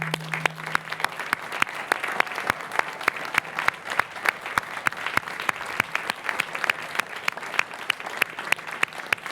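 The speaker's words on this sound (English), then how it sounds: "So I now ask the graduates to stand and turn and join me in a round of applause to honor and" Graduates at the 2019 UVA Law commencement give a sustained round of applause to their families and friends, a dense, even wash of many hands clapping in a large outdoor crowd.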